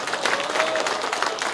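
Party members at a political campaign speech give a brief burst of warm applause, a fairly loud, dense patter of clapping with some crowd murmur underneath.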